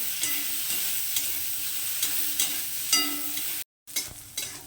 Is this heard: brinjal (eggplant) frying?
yes